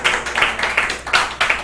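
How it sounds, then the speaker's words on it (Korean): Audience clapping at a Korean church Bible study gathering, arriving in several short bursts of claps rather than sustained applause, fairly close and moderately loud. "박수."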